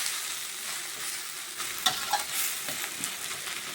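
Bottle gourd peel stir-fries in a pan, a steady soft sizzle broken by a few scraping stirs near the middle, close and moderately quiet with no voices.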